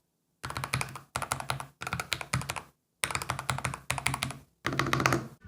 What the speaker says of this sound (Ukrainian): звук цих клавіш це без перебільшення музика для моїх вух